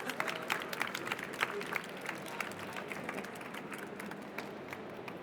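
Audience applause welcoming the co-founder of Small Cities Africa to the stage for a live pitch at a sustainable business awards event, steady dense clapping from a crowd lasting several seconds with a few louder claps near the start.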